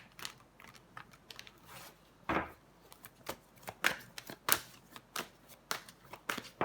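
Tarot cards are handled and shuffled at close range, a quiet run of irregular crisp flicks and taps with no talking.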